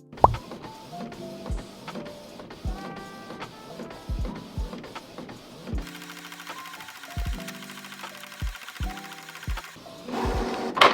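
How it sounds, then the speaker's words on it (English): Inkjet-style printer printing in colour on double-sided glossy photo paper. It makes a fairly quiet, close sequence of mechanical clicks, feeds and whirring carriage passes, with a busier stretch of motor noise partway through and no talk. "we are printing on double-sided glossy paper"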